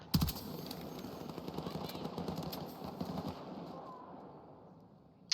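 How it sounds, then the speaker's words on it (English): Rapid automatic gunfire rattles in Battlefield 6, a sustained burst of shots at moderate distance lasting several seconds before trailing off. "Where are you shooting me from?"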